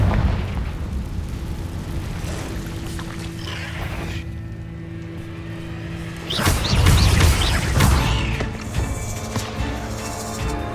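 A Confringo fire spell bursts in a cave in the Hogwarts Legacy video game, a deep boom with crackling debris that swells midway over low rumbling ambience and game music, with no speech.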